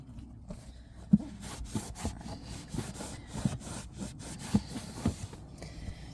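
Magic eraser scrubbing paint off a van's interior wall, producing a soft, rhythmic rubbing rasp with occasional sharper knocks, close and fairly quiet.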